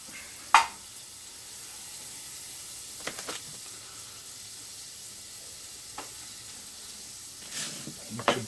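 Steady sizzling hiss of butter frying in a pan, with a few sharp scrapes and clinks of utensils now and then.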